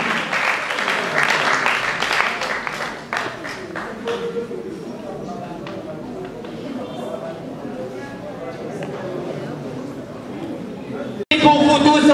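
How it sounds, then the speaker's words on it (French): Audience applause and crowd chatter fill a French stage show welcoming a ballet group, steady and dense for about eleven seconds, then a brief gap before a sudden louder burst of clapping and cheering. "je vous demande déjà de les applaudir"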